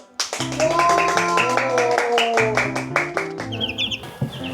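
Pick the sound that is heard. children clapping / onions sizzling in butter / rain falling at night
children clapping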